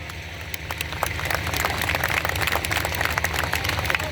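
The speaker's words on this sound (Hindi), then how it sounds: "इसमें ताली बजाने की कोई बात नहीं थी।" Clapping from the crowd at a comedy laughter show in 2023 keeps up a busy, even patter of many hands throughout, with no speech over it.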